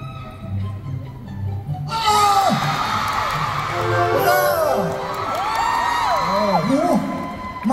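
Fan meeting crowd in Bangkok for a celebrity bursts into loud, sustained cheering and high-pitched screams and whoops after a quieter opening with a voice speaking, the roar filling the hall for several seconds.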